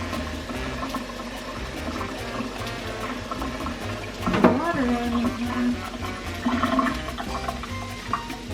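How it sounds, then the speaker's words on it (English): Plantains are wetted under running water from a kitchen tap, a steady close splashing that grows louder with a burst of gurgling, as if the stream hits the fruit and the sink. "I like to wet my plantains before I cut them"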